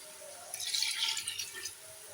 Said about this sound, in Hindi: अब इसमें पानी डालती हूँ।